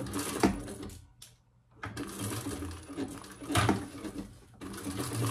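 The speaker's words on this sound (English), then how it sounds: "now we're going to just top stitch across the top" A sewing machine topstitches across the top edge of a fabric commuter bag, a steady close mechanical whir that stops briefly and starts again, running in bursts with no talk over it.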